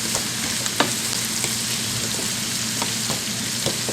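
Carrots frying in a pan over medium heat for chicken and rice, a steady close sizzle with scattered soft pops and clicks running throughout, no voices.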